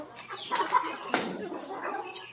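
Rhode Island Red breeder chickens at feeding time, with several short clucks and a quick squawk nearby over a quiet background.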